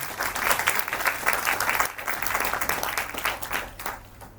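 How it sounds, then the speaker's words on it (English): A university audience applauding after a professor's mathematics talk, a sustained, even round of many hands clapping, fairly loud and continuous for several seconds, no voices. "a big round of applause for Antar"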